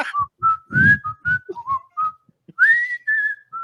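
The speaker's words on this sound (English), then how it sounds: "I can whistle my ass off for no reason." A man whistles a short melodic tune alone, a series of clear sustained notes with pitch slides, including a high rising note near the end, with a few breathy gaps between phrases.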